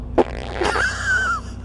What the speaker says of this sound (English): I've been holding in a fart almost this whole time, so I'm probably going to do that.